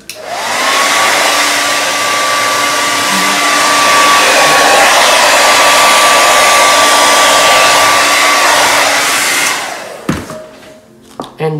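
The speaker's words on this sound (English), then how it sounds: "I'll use my lungs to blow first and then use my blow dryer on it" A hair dryer on its cold setting blows loudly and steadily at close range for about nine seconds with a whining motor tone, then switches off, leaving a few handling knocks.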